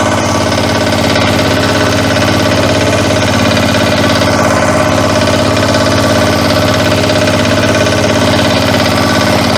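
Motor Sich 12-horsepower walk-behind tractor diesel engine running steadily and loud at close range, a constant chugging drone throughout with no talk.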